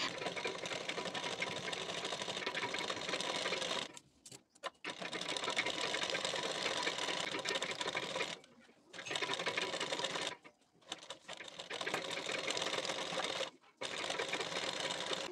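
A sewing machine runs in fast, steady bursts while stitching a sleeve onto a boat-neck blouse, with several short pauses between runs, close and fairly loud.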